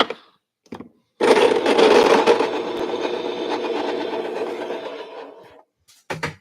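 An electric coffee grinder set to its finest setting grinds beans for syphon brewing, a close, loud, gritty whir running about four seconds before cutting off, with brief clicks before and after.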